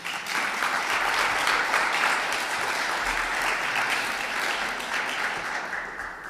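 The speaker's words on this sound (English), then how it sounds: "So in her absence, I would like you to applaud her." A church congregation at an annual meeting applauds steadily and loudly for a candidate, a dense wash of clapping sustained throughout with little variation.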